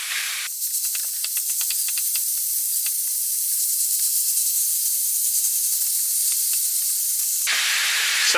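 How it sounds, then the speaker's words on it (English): Beef mince and vegetables fry in a hot pan for cottage pie while being stirred, making a loud, continuous close sizzle with faint scraping ticks throughout and no talking. "So I'll stir and fry that now until the meat starts to brown."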